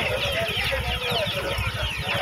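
Chickens cluck and squawk in quick bursts at a crowded festival market stall, heard over busy chatter from people nearby.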